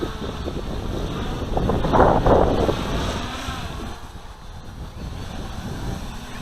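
Gusty wind buffets the microphone outdoors during a Q450 quadcopter flight running APM 2.5 ArduCopter, a broad rushing roar that swells around the second and third seconds and then eases, with no voices.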